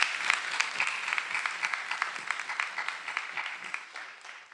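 Crowd applause at a Sankofa celebration, a dense sustained clapping from an audience that stays strong then gently thins toward the end, no talking over it.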